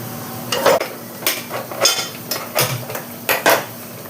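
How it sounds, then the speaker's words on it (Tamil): A metal kadai is set down on a stove while crab masala is being prepared, making a series of sharp clanks and scrapes in an irregular rhythm, close and fairly loud. "இப்போது ஒரு கடாய் வச்சுக்கிறேன்."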